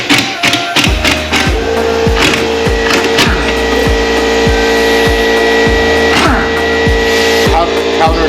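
Power tool buzzes in short repeated bursts while removing the 32 mm countershaft bolt on a Honda B18C1 GSR transmission being rebuilt, with sharp thuds and clunks over a steady hum, close and loud.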